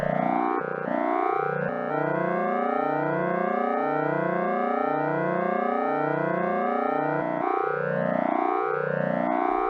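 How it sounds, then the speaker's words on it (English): A pure synthesized sine tone repeatedly sweeps upward in rapid looping chirps, its rising pattern speeding up and shifting pitch, loud and continuous with no other sound. "You now see and hear the results of a pure sine wave."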